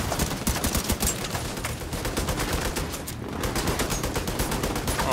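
Dense, sustained gunfire from The Division 2 video game, a rapid fusillade of machine-gun bursts and overlapping shots that stays loud and continuous throughout, with no voices.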